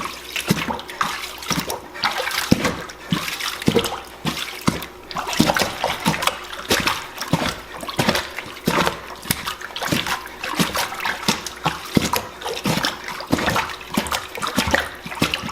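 Laundry is agitated by hand in water in a sink, a steady run of rhythmic splashes and sloshes that repeat quickly and close up, with no talking.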